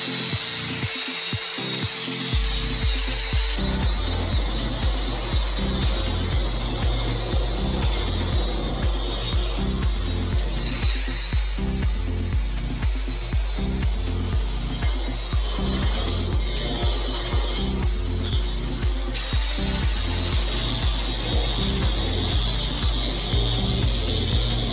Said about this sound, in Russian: Для этого использую алмазную чашку, болгарку и пылесос.